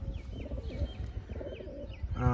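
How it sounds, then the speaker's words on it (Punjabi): Low, murmuring pigeon coos repeat softly with a few faint chirps mixed in, ending in a brief louder tonal sound. "ਇੱਕ ਨਵਾਂ ਕਬੂਤਰ ਉੜ ਗਿਆ"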